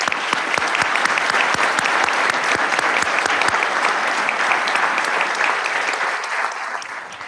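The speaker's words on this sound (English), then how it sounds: "I want a round of applause for all public servants" Loud, sustained applause at a commission swearing-in ceremony honoring public servants, many hands clapping with sharp individual claps prominent early, then thinning slightly as it fades toward the end.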